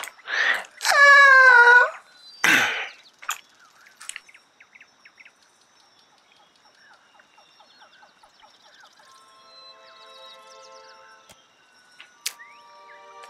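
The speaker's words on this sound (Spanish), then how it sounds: "Te mira ladeando la cabeza y te lanza un chillido inquisidor." A curious creature lets out a loud, rising screech in a video game, followed by scattered chirps, clicks and soft trilling calls from smaller creatures nearby.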